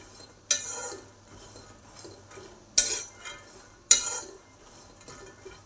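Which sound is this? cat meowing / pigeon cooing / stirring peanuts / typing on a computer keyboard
stirring peanuts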